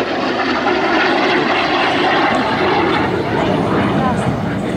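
An L-39 Albatros jet trainer flies aerobatic rolls at an air show, a loud, steady engine roar that fills the scene without a break.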